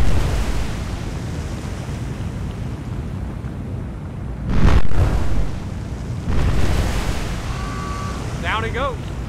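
Warship secondary guns fire in the War on the Sea naval game, heard as two heavy booming blasts midway that roll out over a constant roaring wash of sea and wind, followed by brief high whistling tones near the end.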